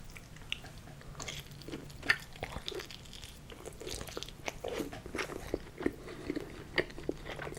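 Close, quiet bites into a pepperoni and anchovy pizza, with crisp crunches and wet chewing in an irregular rhythm, no talk.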